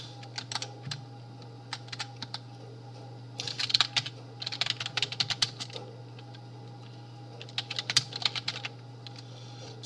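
Clicking keystrokes on a computer keyboard while requirements are written out, coming in quick bursts separated by brief pauses, close and clear over a steady low electrical hum, with no talking.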